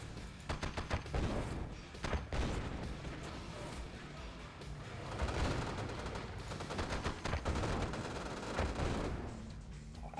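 Dense rattling gunfire from pillboxes in the strategy game Yuri's Revenge, a near-continuous barrage of rapid shots and crashes with bursts overlapping throughout, mixed with a commentator's voice talking underneath.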